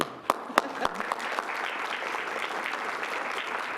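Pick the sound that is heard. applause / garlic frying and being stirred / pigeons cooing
applause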